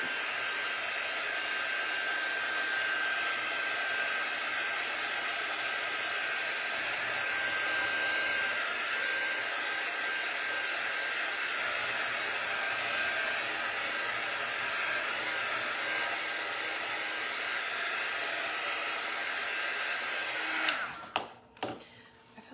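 A hair dryer blows steadily and loudly across a stained glass transfer for about twenty seconds, its broadband whoosh constant before cutting off into a few clicks and knocks near the end.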